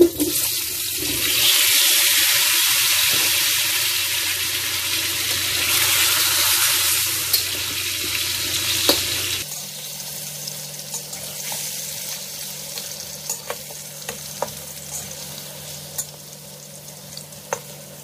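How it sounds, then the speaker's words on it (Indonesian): Potatoes frying in oil make a loud, dense hiss for the first half, then the sound drops to a quieter sizzle with scattered crackles and faint clinks. "Lalu masukkan kentang ya, digoreng juga."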